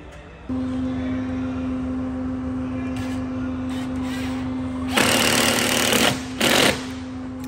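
A power drill drives stainless steel screws through sealant into a boat's rub rail, with a steady motor whine followed by two louder, harsher bursts of drilling near the end.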